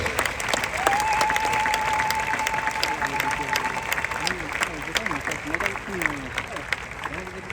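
Mourners at a funeral service applaud loudly and steadily, a dense crowd clapping that continues throughout, with a voice singing and calling out over the applause.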